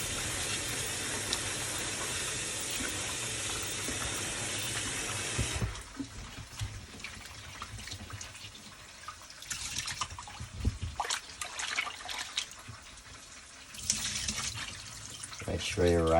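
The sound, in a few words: washing rice under running tap water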